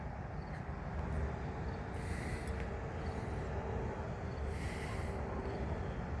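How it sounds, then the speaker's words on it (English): A long CN southbound oil freight train hauled by ET44AC, SD70M-2 and ES44DC locomotives rumbles steadily at a distance, with two bursts of high metallic hiss or squeal from the wheels and rails, and no voices. "It was pulling a long line of heavy train cars, pulling a long line of heavy freight cars."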